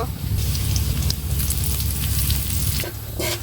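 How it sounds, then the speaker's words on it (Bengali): Chopped onions fry in hot oil with a steady, loud sizzle and crackle that runs throughout, with brief stirring scrapes near the end. "এবার তেল দিয়ে দেব এবার পেঁয়াজ কাটা দিয়ে দেবো"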